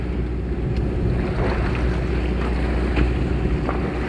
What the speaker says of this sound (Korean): 백파가 파도가 일어나네요.